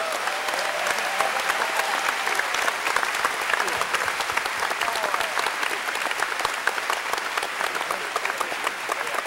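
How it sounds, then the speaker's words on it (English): Sustained applause from the audience at a Hawaiian choral competition, Ka Himeni Ana 2011, dense steady clapping holding at an even level throughout with no voices over it. "How's about a big round of applause for them?"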